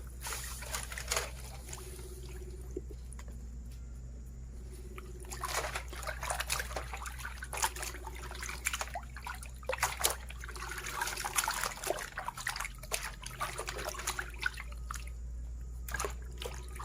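Water trickles and dribbles into a pan while cooking outdoors, a fairly steady thin flow with uneven splashy bursts and gurgles running on for many seconds.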